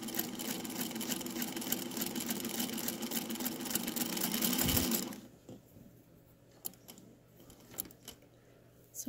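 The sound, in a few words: Singer Featherweight sewing machine stitching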